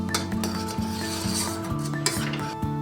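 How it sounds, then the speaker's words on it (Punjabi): Milk simmering down in a pot, thickening toward khoya, is stirred with a spoon: steady scraping and clinking against the metal over a soft bubbling hiss, close and continuous with a few sharper knocks. "ਦੁੱਧ ਨੂੰ ਅਸੀਂ ਇਸੇ ਤਰ੍ਹਾਂ ਹਿਲਾ ਕੇ ਤੇ ਪਕਾ ਲਿਆ"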